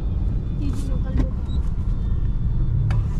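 Road traffic in Manila, with trucks among the vehicles: a continuous roar of passing engines with brief hissing bursts, loud and close, with talk mixed in.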